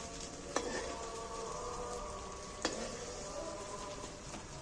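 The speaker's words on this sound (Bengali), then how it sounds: "তেলটাও খুব গরম হয়ে গেছে। আমি এর মধ্যে গোটা ডিমটা দিয়ে দিচ্ছি।" A whole egg fries in very hot oil, giving a steady, close sizzle with light crackle throughout and two sharp clinks of a utensil against the pan.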